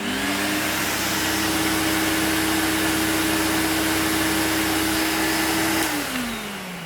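A clogged Electrolux Twin Turbo 2 Super Z1070A bagged upright vacuum cleaner runs with a loud, steady motor whine and airflow hiss, then winds down in falling pitch as it is switched off.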